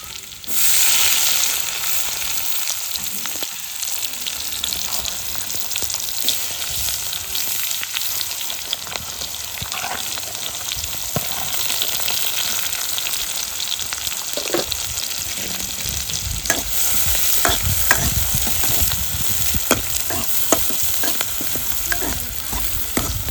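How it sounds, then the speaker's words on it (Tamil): Onions fry in a hot pan with crushed garlic, a loud, steady sizzle that runs throughout while a utensil stirs and scrapes now and then, with no voices. "வெங்காயம் நல்லா வதங்கட்டும்."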